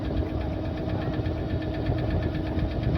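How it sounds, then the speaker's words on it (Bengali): A motor boat engine drones on Chilika Lake, a loud, close, steady low rumble with an even throbbing pulse and nothing else over it. "নৌকা আমাদের ধীরে ধীরে এগিয়ে চলেছে,"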